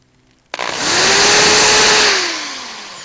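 A power drill bores a hole into a metal dance pad's control board, starting abruptly and whining steadily at a close, loud level before slowing toward the end; a single burst with no talking.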